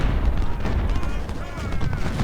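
A dense, rumbling din of rifle and artillery fire fills the battlefield of Ultimate General: Civil War during the Siege of Suffolk, steady and loud beneath someone talking over it.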